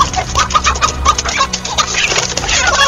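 A mother hen and her chicks on a North American farm cluck close by, with a busy, overlapping run of short clucks and high peeping calls over a low background rumble.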